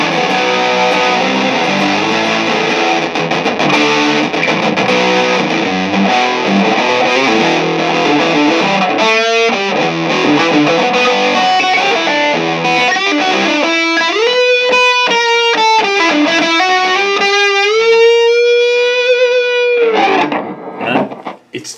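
Electric guitar played through a Rat distortion pedal, a loud, thick crunching tone with sustained chords, then single-note bends and riffs near the end, no talking.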